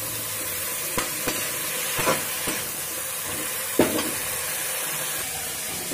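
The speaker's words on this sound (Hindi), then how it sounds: "मैंने इसमें साग डाल दिया है और थोड़ा सा फ्राई भी कर लूँगी" Bottle gourd greens (lauki saag) frying in oil, a steady bright sizzle and hiss with a few faint spoon taps and stirs scattered throughout.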